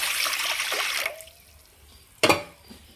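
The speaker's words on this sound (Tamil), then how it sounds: "கடாயில் ஒரு கப் தண்ணி," A cup of water poured into a kadai pan, a close gushing pour that stops after about a second, followed by a brief loud splash or clatter.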